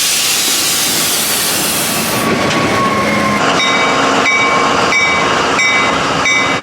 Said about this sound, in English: the train's just rolling into the station